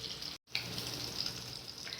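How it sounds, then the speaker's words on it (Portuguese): Bacon fries in a little oil in a pan with a soft, continuous sizzle and fine crackle, broken by a brief dropout near the start, no voices. "eu já vou fritando essas coisas, porque depois de frito ele dá um saborzinho mais especial"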